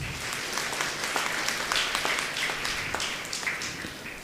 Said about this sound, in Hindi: तो इनके मधुर गानों के लिए एक बार ताली बजाइएगा।